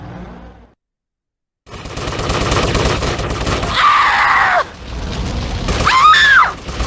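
Gunfire in the video game GTA Vice City Stories, loud bursts of rapid shots after a brief silence, with screams and shrill game effects over the shooting.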